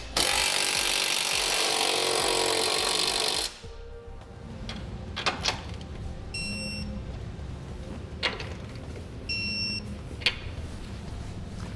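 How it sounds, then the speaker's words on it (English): Trailer hitch nuts on a 2007 Acura TSX are snugged down with a power tool in a loud continuous whir lasting about three seconds. Quieter clicks and a few short tool bursts follow as the nuts are torqued. "now we can get those snugged down and also torqued to the appropriate specifications"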